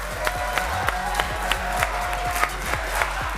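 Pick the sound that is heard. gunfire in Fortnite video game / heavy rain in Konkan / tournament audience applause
tournament audience applause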